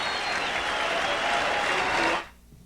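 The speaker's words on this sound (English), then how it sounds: "The crowd comes to a standing ovation, Tim." A boxing crowd at a middleweight fight at Caesars Palace breaks into a standing ovation, with dense, loud applause that holds steady and then cuts off abruptly near the end.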